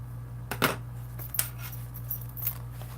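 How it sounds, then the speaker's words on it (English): A few sharp, close snips of scissors cutting through excess zipper while sewing a bag, brief clicks spaced over a quiet background hum. "Now we can cut off our excess zipper"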